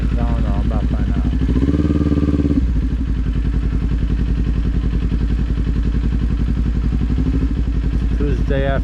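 A Kawasaki Z400 motorcycle engine runs close and loud with a throbbing, steady idle, and a brief rise in revs near the start before it settles back.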